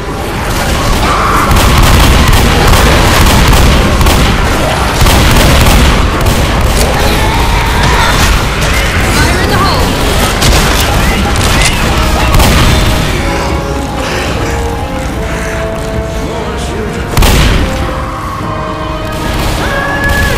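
In the Left 4 Dead survival map on the lighthouse, a gas can blows up amid a loud, continuous barrage of booms and gunfire that fills the whole stretch, with a sharp blast near the end.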